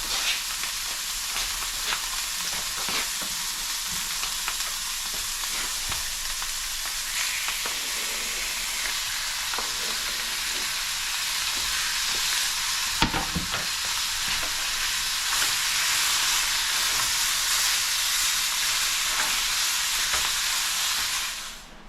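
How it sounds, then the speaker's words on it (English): Venison browning in a pan of hot oil and butter, a loud, continuous sizzling hiss that holds steady and swells slightly toward the end, with a brief clatter midway. "we're going to brown the venison, brown all the meat. I've got some oil and some butter in here."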